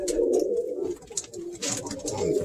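Pigeons coo softly in a loft, low throaty calls repeating close by, with faint rustling and a quiet voice in the background.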